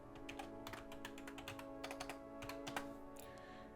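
Quick bursts of keystrokes on a computer keyboard as a material name is typed, faint, close taps in uneven clusters over a steady background hum.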